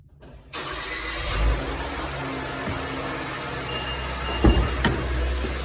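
A car's engine starts up by remote start, cranking briefly and then settling into a steady idle heard close by. A short thump sounds partway through, and no one speaks.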